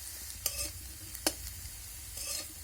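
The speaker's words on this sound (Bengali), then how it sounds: "আমি বেশ কয়েকবার ঢাকা চাপা দিয়ে আলুগুলোকে লাল লাল করে ভেজে নিয়েছি" Potatoes frying in a pan for a papaya and egg dish, a soft sizzle with a few sharp spatula strokes against the pan, fairly quiet.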